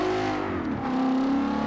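A Fox Body Mustang engine in Forza Motorsport 7 revs and drops as the clutch is held through a gear shift, a steady close engine tone sliding down then climbing again, with no talking.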